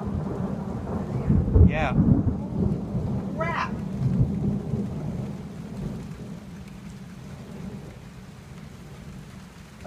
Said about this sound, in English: a combination of like a sun shower with thunder coming in